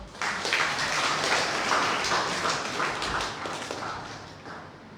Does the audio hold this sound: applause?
yes